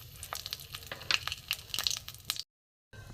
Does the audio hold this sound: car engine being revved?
no